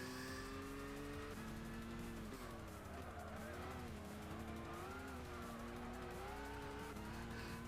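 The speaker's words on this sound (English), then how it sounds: "But I am going to go full throttle now as I bin it right into the wall." Race car in Gran Turismo 6 on the Nürburgring, engine droning at full throttle with shifting pitch and tire noise as it runs into a wall, loud and continuous.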